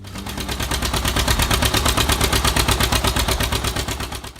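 A John Deere 730 tractor engine runs loud and close with a deep, rapid, evenly pulsing chug that holds steady throughout.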